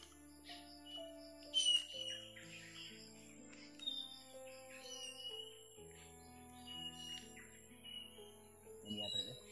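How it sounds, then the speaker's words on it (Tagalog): Many wild birds chirp and call near a creek, with repeated bright tweets and whistles scattered throughout, fairly quiet and layered over a sparse tonal background. "marami namang mga ibon"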